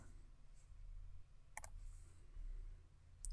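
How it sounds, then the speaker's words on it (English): A single computer mouse click, sharp and close, with a faint second click near the end, over a quiet low hum while setting up a step in the Podio workflow tool on a computer. "click this button or click down there"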